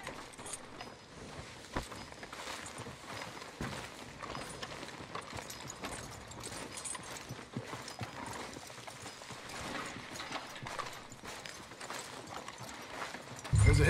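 Horse hooves clip-clop at a steady trot in Red Dead Redemption 2, a continuous close rhythm running the whole time beneath faint game ambience and occasional voices.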